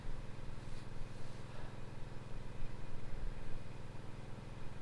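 A steady low drone from a pump hums continuously in the background beside a pond, like a machine running nearby, with no voices.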